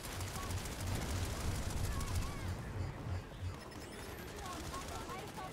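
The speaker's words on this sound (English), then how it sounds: "they're shooting back at me." Bursts of automatic gunfire from enemies firing back in the Planetside 2 shooter game, rapid fusillade rattling under loud background game noise, fairly steady then thinning out.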